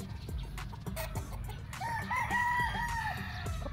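A Sweater gamecock rooster crows at a game farm, one drawn-out wavering call rising over a busy background of clucking fowl and low ambient noise, moderately close.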